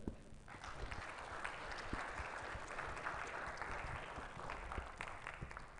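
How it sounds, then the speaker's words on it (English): An audience at a live event applauds, dense clapping at moderate distance holding steady for several seconds without a break. "I want everybody to give a round of applause for Tatcoin and the BitTrader today."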